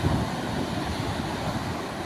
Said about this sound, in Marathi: बघा इथं लाटा कशा येतात बघा.